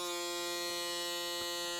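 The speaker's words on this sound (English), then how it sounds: "we're going to turn this on just so you can hear the shaver running" Braun Series 9 Pro+ electric shaver switched on and running, a steady close buzzing hum with a strong whine that holds constant throughout, heard alone with no talking.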